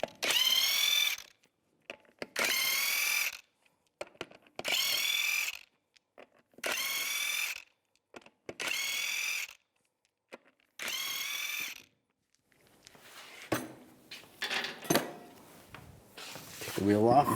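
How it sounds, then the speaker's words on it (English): Six bursts of a ratchet or impact tool loosening the 19mm lug nuts on a 2002-2009 Chevy Trailblazer rear wheel, each about a second long with pauses between, close and loud, followed by softer clanks and handling noise. "take all the lug nuts off."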